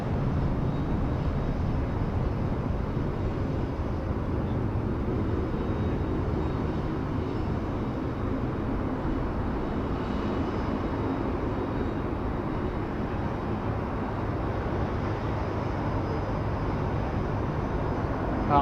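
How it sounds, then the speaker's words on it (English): A Falcon 900 jet at Sydney Airport produces a steady, broad engine roar that holds level for the whole stretch, distant and continuous with no voices over it. "One of our resident Falcon 900s that we regularly see here in Sydney."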